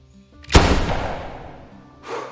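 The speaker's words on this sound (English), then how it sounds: "perfect shot through the spine" A single loud rifle shot rings out in the hunting game theHunter Classic, with a sharp crack followed by a long echoing decay, alone in an otherwise quiet scene.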